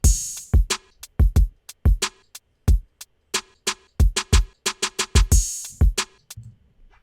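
A programmed snare drum fill made in Ableton plays as sharp, dry hits in quick, uneven bursts with a few bright cymbal-like crashes, loud and alone with no voices.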